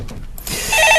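A telephone starts ringing after a quiet moment on a stock market call-in show, its bright bell-like trill swelling louder and repeating, with no talk over it.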